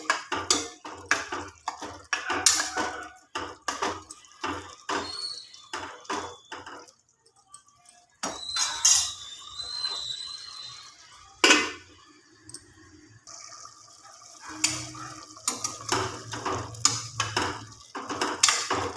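Mutton fry being stirred in a cooking pan with a metal spatula: irregular scraping clinks and taps come in bursts, with a quieter lull midway before the clattering resumes close up.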